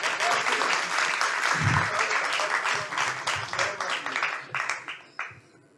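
Loud, dense applause from a kavi sammelan audience greeting the poet Nikunj, a steady roar of many hands that thins and breaks into scattered claps near the end.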